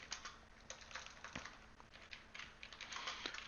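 Typing on a computer keyboard, a steady stream of quiet, close key clicks in uneven bursts, with no voices.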